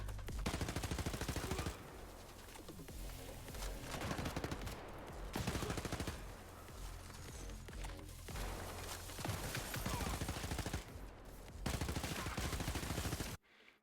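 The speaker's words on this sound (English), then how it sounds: "right away they're treating us to some lovely SMG gunplay here" Rapid SMG fire in the shooter game Den of Wolves, loud sustained bursts separated by brief pauses, dense and continuous with no voices.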